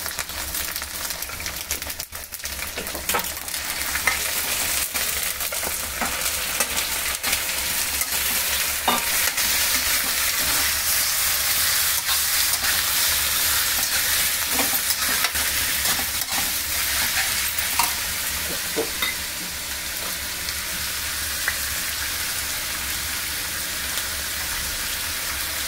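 Ginger garlic paste frying with chicken pieces and turmeric in a home kitchen pan: a steady, close sizzle runs throughout, broken by occasional scraping stirs of the spoon, with no talking.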